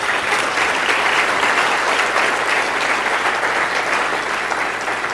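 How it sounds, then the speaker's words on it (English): Sustained audience applause fills an awards ceremony hall at a stem cell summit, steady and loud throughout without pause. "So let's please give them a round of applause."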